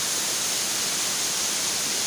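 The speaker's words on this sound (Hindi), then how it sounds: "और ये झरना जेठ में बंद हो जाता है" A forest waterfall at a picnic spot pours in a steady, dense broadband rush, loud and close, unbroken for the whole moment with no voices.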